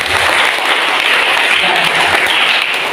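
Steady applause from a church congregation during an Indonesian sermon, dense continuous clapping at moderate loudness throughout the short stretch, with no talking over it.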